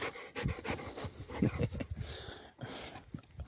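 A pet dog breathes in quick, rhythmic pants close by on a farm, puffs coming in short bursts with brief pauses.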